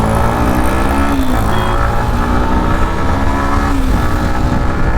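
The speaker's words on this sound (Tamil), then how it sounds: "ஒரு ரிவ் பண்ணலாமா?" A Yamaha MT-15 V2 motorcycle engine runs loud and close, holding a steady drone with slight swells in pitch as it is revved, heard alone without any talking.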